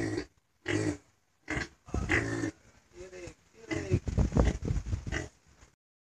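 A boar and sow on a farm grunt and snort in short, separate bursts, then break into a denser run of squeals and rough grunts, fairly close and moderately loud.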